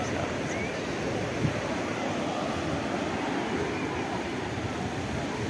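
Sea waves washing onto the shore at Achakar beach, a steady, full-bodied rush of surf that rolls on without a break, with a breezy, wind-like hiss over the top.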